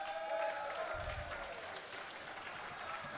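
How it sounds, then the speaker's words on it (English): A crowd at a board game marathon raffle claps in applause, a broad steady patter of hands filling the room for a few seconds. "Round of applause for Sam, please."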